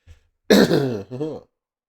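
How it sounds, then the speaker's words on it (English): A man clears his throat once, a short rough rasp followed by a second gruff grunt, close and loud against silence. "Now let me clear my throat."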